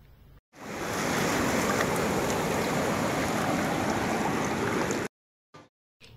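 Sea waves at Mandarmani beach make a loud, continuous wash of surf with rushing wind. The sound swells in sharply, holds steady for several seconds, then drops away into brief fragments.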